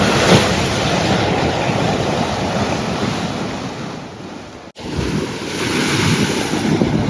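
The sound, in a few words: big ocean waves crashing on Maui shore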